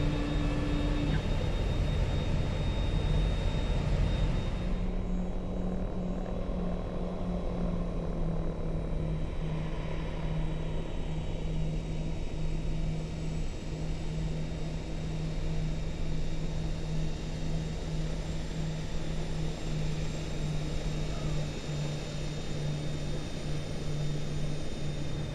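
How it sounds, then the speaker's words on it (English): A Dreamfoil EMB-110 turboprop in X-Plane 10 taxis on a single engine, a steady droning whine and hum that shifts pitch a few times over a constant engine roar. "actually, let's try taxiing in on one engine"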